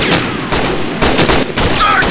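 Rapid, loud bursts of gunfire sound effects in a toy soldier film, with several closely spaced volleys and chattering shots in quick succession.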